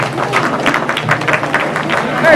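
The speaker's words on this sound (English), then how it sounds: "Let's give both these kiddos a nice round of applause" Spectators at a junior livestock show give a round of applause for two young exhibitors, a close, dense patter of many hands clapping steadily throughout.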